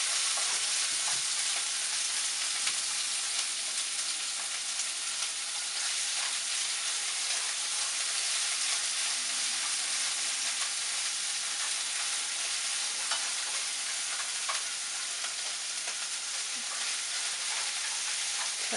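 Onions stir-frying in a hot pan for Vietnamese banh xeo crepes, a dense, steady sizzle and crackle that holds evenly throughout, close and fairly loud, with no voices.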